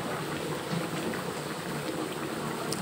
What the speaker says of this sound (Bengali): তো বলক এসে গেছে